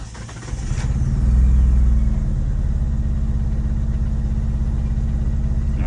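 A 2G car engine cranks and catches, then runs rough on only a couple of cylinders, settling into a loud, steady, lumpy low rumble with no talk.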